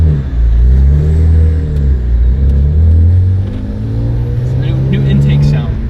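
A BMW N54 335i fitted with a Burger Tuning DCI intake drives by, its engine rising and falling through revs with a loud, close mechanical drone, harmonics sweeping up and down.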